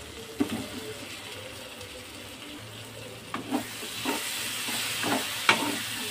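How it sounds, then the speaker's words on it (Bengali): Fried potato pieces being stirred into a spiced curry in a pan, with soft sizzling and scraping strokes of a spoon in a steady, close, moderately loud stir. "তো আলুটা দিয়ে আমি আরেকটু নেড়ে নেবো"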